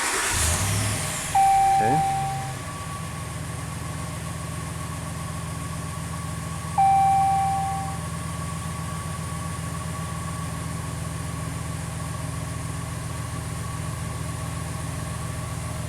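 A Ram truck's HEMI engine turns over and settles into a steady low idle that runs on continuously, with a brief spoken word near the start.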